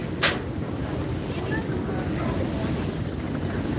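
A passenger launch out on a river, its engine rumbling steadily amid choppy waves, with strong wind buffeting the microphone and one brief higher splash or hiss near the start.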